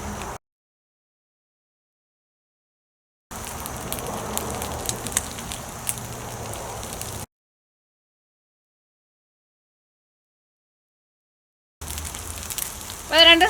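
Leftover-rice patties frying in oil over a medium flame give a crackling, bubbling sizzle in two bursts of a few seconds each, separated by stretches of silence, with a sharper crackle at the very end.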